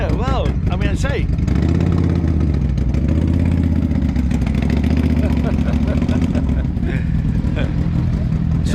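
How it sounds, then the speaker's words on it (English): A noisy motorbike engine rumbles and idles close by at steady volume, with a brief rev near the start, while people talk over it. "Here we go, another noisy motorbike."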